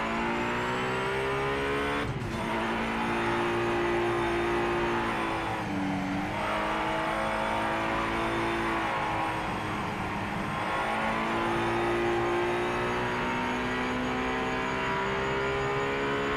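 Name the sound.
GT race car engine in Project Motor Racing video game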